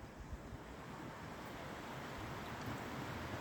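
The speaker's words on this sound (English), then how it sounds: "listen to the water, the babbling of the brook, and the clacking of the trees" Steady broadband rush of flowing water from a babbling creek, with breeze noise mixed in, continuous and fairly close, with no voices.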